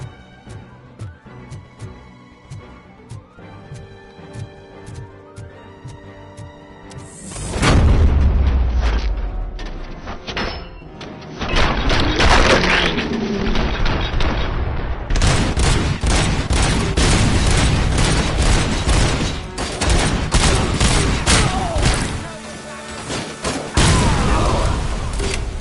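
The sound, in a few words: gunfire from a gun in a Robocop video game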